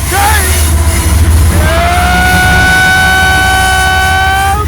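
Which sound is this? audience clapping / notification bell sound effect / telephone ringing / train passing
train passing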